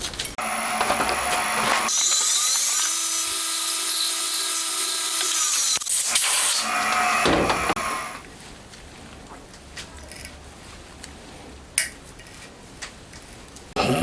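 A drill with a 3.3 mm bit bores a hole in a homemade DOHC cylinder head, giving a loud, steady whine that lasts about six seconds and then stops, followed by quieter ticking and handling clinks.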